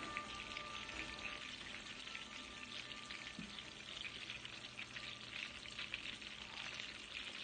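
Meatballs sizzle and crackle steadily in a hot pan, a soft, even frying hiss with no talking.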